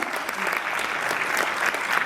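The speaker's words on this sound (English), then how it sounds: "Let's clap our hands as they come to prepare." A crowd claps steadily, a dense wash of many hands applauding throughout without a break.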